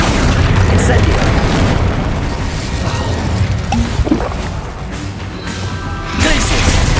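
Spell blasts and booming magical explosions from combat in the video game Hogwarts Legacy, a constant loud barrage of thuds, crashes and whooshes layered densely over each other with no break.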